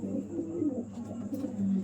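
A pigeon coos in low, throaty repeated phrases, close by and moderately loud, with faint background noise and no talking.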